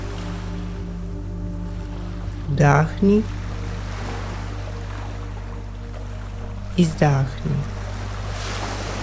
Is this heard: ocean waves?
yes